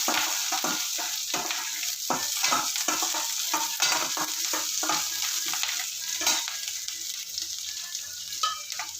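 Green chillies and curry leaves fry in hot oil in a pan, a steady soft crackle and sizzle with frequent stirring scrapes, moderately quiet and with no one talking.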